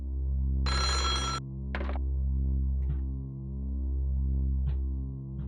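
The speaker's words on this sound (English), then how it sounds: "I thought the ringing sounded like somebody screaming." Telephone ringing in the Super Famicom horror game Otogirisou, a steady warbling electronic ring repeating in slow pulses under a low droning background, with a few short bursts of harsher noise over it.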